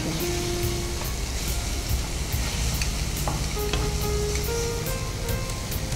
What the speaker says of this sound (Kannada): Then we add green chilli.